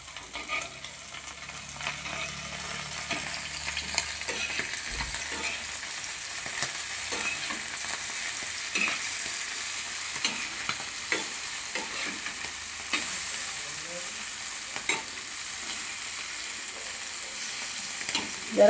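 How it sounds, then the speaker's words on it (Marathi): Clams fry on a hot griddle with a constant soft sizzle and occasional scraping stirs and flips, fairly quiet and close, with no voices. "हे अशी तव्यामध्ये फ्राय करायला टाकून द्यायची कालवं."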